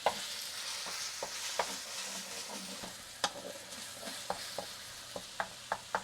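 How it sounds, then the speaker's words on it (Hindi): Onions sauté in oil in a frying pan with a soft, steady sizzle, broken by sharp scrapes and clicks of stirring at irregular intervals; no voices. "तो मैंने तकरीबन 1-2 मिनट तक सौते किया ऑयल में।"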